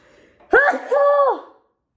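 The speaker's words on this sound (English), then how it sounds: "Every time I turn off the AC, I start sneezing" A single close, sudden sneeze from a person indoors: a sharp intake followed by a forceful, voiced burst that trails off, with quiet background before and after.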